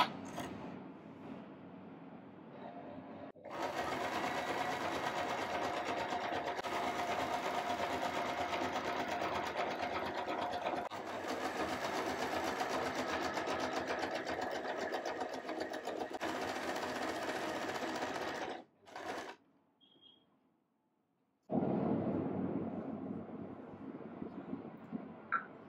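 A sewing machine fitted with a twin needle stitches in a steady, fast whirring run, stops briefly, runs in short bursts, then starts up again, heard close and without talk.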